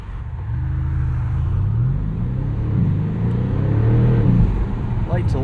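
Twin-turbo V8 of a 2025 Porsche Panamera GTS accelerating, a deep engine rumble rising and falling in pitch through the gears, heard steadily from inside the car.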